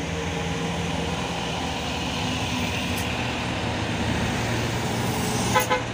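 A three-quarter-size tour bus passing on a road, heard as a steady engine and traffic rumble throughout, with a short horn toot near the end.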